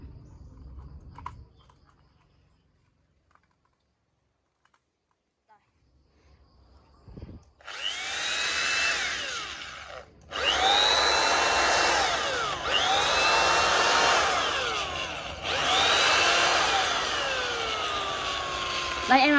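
A Bosch 13 mm corded electric drill running at low speed starts after a quiet stretch, then whirs loud and close in several sustained bursts separated by brief stops.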